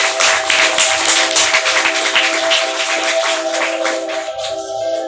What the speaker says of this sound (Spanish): Vamos a darle un aplauso al Rey de Reyes y Señor de Señores.